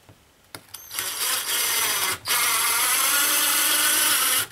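A power drill drives a screw into a tiny house wall. After a few clicks it whirs loudly and steadily, pauses briefly, then whines again at full speed up close.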